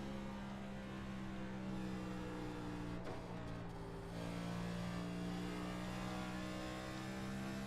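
Race car motor droning loudly through laps, a steady harmonic engine tone with a brief dip and shift in pitch midway before revving back up, no voices.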